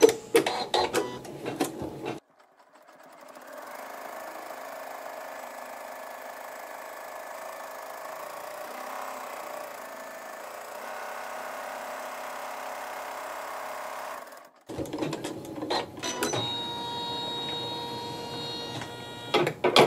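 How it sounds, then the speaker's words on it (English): An embroidery sewing machine stitches a tack-down line with water-soluble thread, a steady mechanical whir running for about twelve seconds between louder handling clatter at the start and end. "you're going to continue with the water soluble thread, and you're going to sew the tack down stitch"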